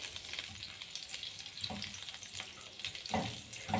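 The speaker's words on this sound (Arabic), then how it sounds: "ننزل بقطعه الزبده ونسيحها كده" Butter melts in a pan with a soft continuous sizzle and faint bubbling crackles, close and quiet, with light stirring clicks near the end and no speech.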